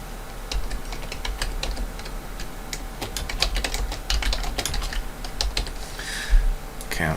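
Rapid, uneven keystrokes on a computer keyboard during bookkeeping data entry, clicking steadily and fairly close for about seven seconds with no voices.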